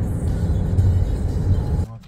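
Car being driven in to park, a close steady low engine and road rumble with interior noise, holding for about two seconds before cutting off abruptly.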